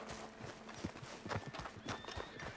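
Horse hooves clip-clop in Red Dead Redemption 2, a run of rhythmic, fairly close thuds with a few louder strikes, heard without speech over a faint game ambience.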